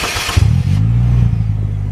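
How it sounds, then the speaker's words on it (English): A vehicle engine turns over and catches after a push-button start with the clutch pressed, settling quickly into a steady, close, low idle hum. "Starts up the engine just like that."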